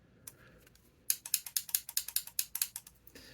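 Small mechanical clicks come from the switch of a Galaxy's Edge Ben Solo lightsaber hilt being adjusted, a few faint ticks and then a rapid, close series of about a dozen sharp clicks.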